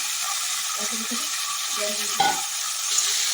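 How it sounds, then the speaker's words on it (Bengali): Greens of cane shoots being stirred in a frying pan after brinjal was fried, with mustard and chilli, giving a steady close sizzle and scraping with a brief louder clatter near the end. "মা এখন নাড়াচাড়া করতে শুরু করেছে"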